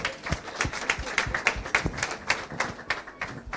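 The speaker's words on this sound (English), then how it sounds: "We give her a round of applause too." Audience applause at an International Women's Day event, with scattered individual claps in an uneven rhythm, close and moderately loud, fairly sparse rather than a full ovation.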